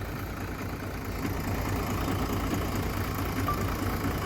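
A tractor engine runs steadily nearby with a low, chugging drone and faint knocking, unbroken and without speech.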